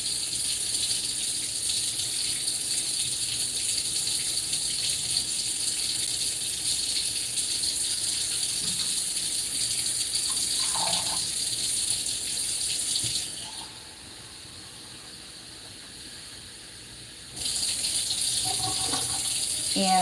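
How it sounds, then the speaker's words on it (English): Tap water runs steadily into a pot for herbal hair tea, a loud, continuous splashing gush that briefly softens midway, then returns, with no talk. "I'm going to add in some water."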